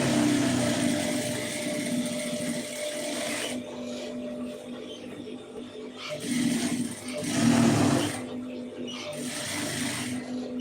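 Sewing machine stitching the neck of a blouse, a close mechanical whirring clatter running in bursts with short pauses between them, while a voice talks faintly underneath.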